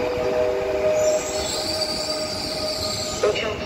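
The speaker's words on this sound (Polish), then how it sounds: "Pociąg osobowy PKN5 ze stacji Piła Główna wjedzie na tor 52 przy peronie 5." A passenger train arrives at a platform at Poznań Główny station, Poland, with squealing wheels and a metallic screech over a constant rumble, nearby and sustained.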